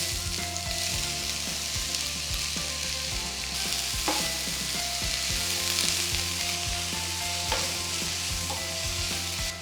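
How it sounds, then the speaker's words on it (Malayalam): Finely chopped onion hits hot sunflower oil and fries with a loud, dense, continuous sizzle, close up, with a low hum and a few sharp crackles, no talking. "എണ്ണ നന്നായിട്ട് ചൂടായി ഇതിലേക്ക് ഒരു വലിയ സവോള ഫൈനായിട്ട് ചോപ്പ് ചെയ്തത് ചേർക്കാം."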